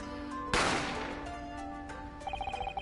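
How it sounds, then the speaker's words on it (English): Gunshot sound effect in the video game The Great Ace Attorney Chronicles: one sharp, loud crack with a decaying tail over background game music, followed by a rapid string of ringing beeps. "A gunshot rang out and I hurried to the dining area to see what happened."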